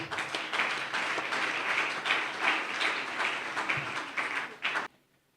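A church congregation claps and applauds together, a dense steady wash of hand claps that carries on for about five seconds and then cuts off into quiet.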